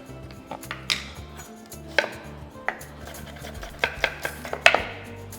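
Thin slicing of an onion with a kitchen knife on a board while preparing a Telugu prawn fry, heard as a string of irregular, close, crisp chopping taps over a low background hum, with no talking.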